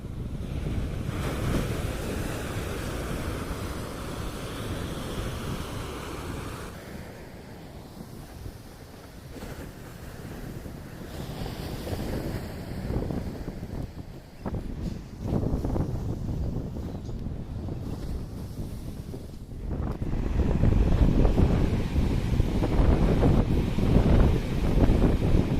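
Heavy surf breaks at Paradip beach on the Odisha coast while strong wind buffets the microphone, so the roar of the waves rises and falls in long surges and grows loudest near the end, with no one talking.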